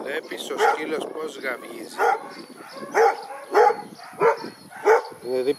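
A hunting dog on a hare's trail gives a run of loud, evenly spaced barks and yips, close by, with other dogs and a voice underneath.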